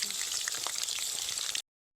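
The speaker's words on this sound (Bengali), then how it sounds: "ফুটন্ত তেলে বাঁধাকপি" Steady, loud sizzling of cabbage frying in hot oil, a dense crackle that runs unbroken for under two seconds and then cuts off.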